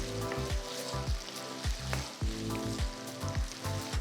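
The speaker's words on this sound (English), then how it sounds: "we are cooking the raw potatoes directly with the onions to infuse more flavor" Raw potato cubes fry together with onions in a pan over a low flame, giving a steady close sizzle broken by repeated stirring scrapes, with no talking.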